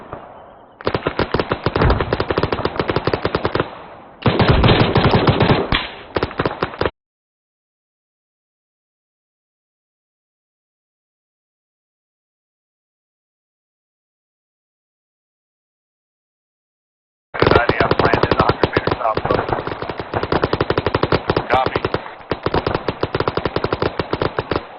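Machine gun fire in a military simulation video game: long sustained automatic bursts, loud and dense, broken by a long silent gap before firing resumes.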